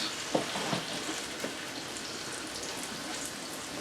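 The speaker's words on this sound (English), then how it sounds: "now we're going to go in with our sherry. Just give that a little stir around." Sherry poured into a gravy pan sizzles quietly while being stirred, a faint steady crackle with a few soft scraping bumps near the start, heard alone without talk.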